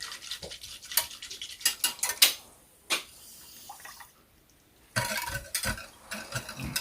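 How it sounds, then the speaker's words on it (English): Sugar being whisked into a mixture with powdered milk for homemade bread: quick, irregular clicks and scrapes of the whisk against the bowl, coming in bursts with brief quieter pauses, close and moderately loud, with no talking. "you're just going to stir that up, whisk it up"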